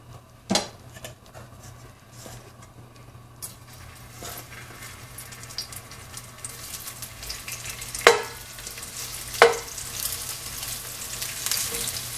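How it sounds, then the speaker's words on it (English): Shrimp fry in a little oil in a hot pan with a soft, continuous sizzle, broken by a few sharp clinks of a utensil against the pan. "Okay, our pan is hot. We put some oil in there, a little bit. Then we'll add this shrimp in there."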